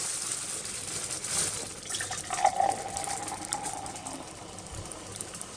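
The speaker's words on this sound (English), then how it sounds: "pour myself a little bit of bubbly, but well, not champagne, but a bit of fizzy" A fizzy drink being poured into a glass gives a faint, close trickle of liquid with soft bubbling and fizz over a few seconds in a quiet room.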